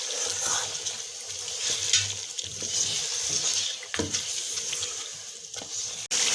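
Ground chilies, coriander, cumin, turmeric and salt fry in oil for chicken karahi, giving a steady close sizzle with soft stirring scrapes and occasional clinks.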